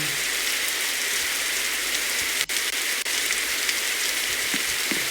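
Rain in a Roblox airport simulator game, a steady loud hiss of falling drops that stays constant throughout with a couple of brief dropouts.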